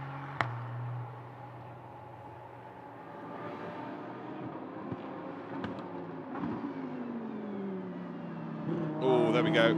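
Race cars at the Motul 12 Hours of Sepang circuit roar at a distance in a steady engine wash, with a few sharp clicks and a rising surge of sound near the end.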